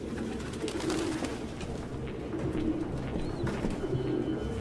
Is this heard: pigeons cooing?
yes